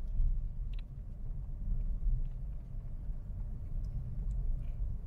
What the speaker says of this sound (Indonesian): Motor mobil aja lirih banget suaranya